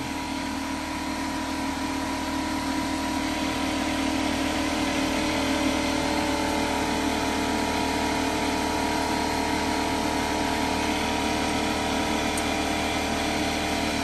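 Air compressor running continuously in a garage during a 2007 Ford Sport Trac rear brake job, a loud steady mechanical drone with a constant hum, no breaks for the whole stretch.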